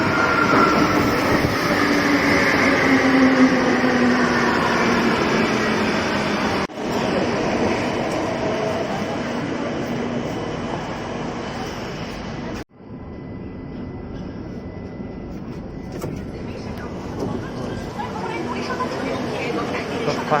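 A metro train pulls into an underground station platform with a loud, sustained rumble and rolling wheel noise, a couple of abrupt cuts, and faint squeals as it slows, while people talk over it.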